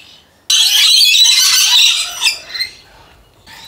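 Lorikeets in a suspended aviary let out a harsh, sustained burst of squawking and shrill chatter, loud and close, easing into scattered calls before another squawk starts.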